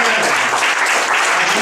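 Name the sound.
applause for the Lord in church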